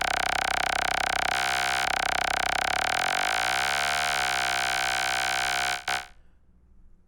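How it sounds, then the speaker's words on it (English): Deep vocoded bass from a PO-35 sampling a Behringer Model D, a sustained, thick buzzing tone that shifts and sweeps downward midway, then cuts off sharply near the end into a faint tail. "You can even get some real good basses out of the vocoder."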